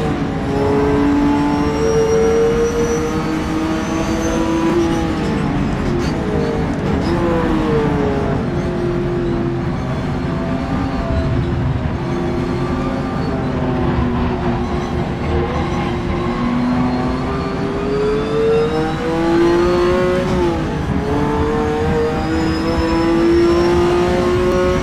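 A Porsche 917K race car engine at Sebring in the rFactor 2 video game drones loud and steady, its pitch rising and falling through gear changes and corners.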